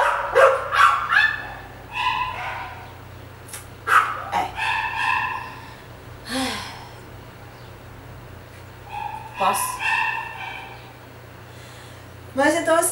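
Several dogs bark at home in bursts of sharp yips and barks, some overlapping, close and fairly loud with quieter gaps between, over a steady low hum.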